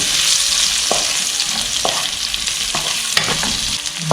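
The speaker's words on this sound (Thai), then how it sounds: "เสร็จแล้วก็ปรุงรสเราจะผัดแบบแห้งๆค่ะ" Boiled potatoes stir-fried in melted butter sizzle steadily in a pan, with a utensil scraping and tapping against the pan at irregular intervals, close and alone.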